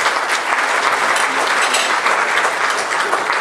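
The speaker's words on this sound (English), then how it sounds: "Let's give them a round of applause." Applause from a community council breakfast audience for a police precinct board, a dense, steady wash of many hands clapping close and loud throughout, with no one talking over it.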